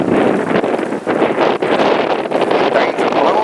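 Strong gusts during a high wind warning in Michigan buffet the microphone in a loud, continuous roar, with brief dips and surges as things blow around outdoors.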